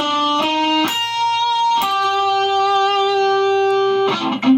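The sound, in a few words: electric guitar slide and bend lick from a song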